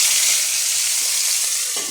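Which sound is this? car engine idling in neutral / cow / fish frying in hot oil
fish frying in hot oil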